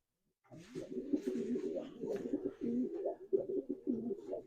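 Pigeons coo continuously in low, throaty rolling calls, several birds overlapping close by for the whole stretch.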